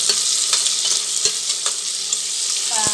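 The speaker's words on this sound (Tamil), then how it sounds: "வெங்காயத்தை போட்டு நல்லா வதக்கணும்" Onions and spices sautéing in oil for mutton biryani, a steady bright sizzle with soft stirring scrapes recurring throughout.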